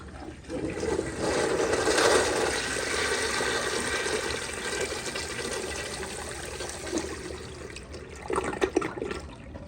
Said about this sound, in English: I'm gonna give y'all a flush. This is pressing and releasing the handle.